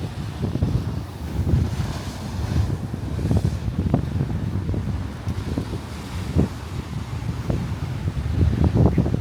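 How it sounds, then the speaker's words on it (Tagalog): Sea waves surging and splashing against the shore at a seaside ferry and bus terminal, irregular rushing washes mixed with heavy wind buffeting the microphone, no voices. "Malagpak ng alon-alon dyan."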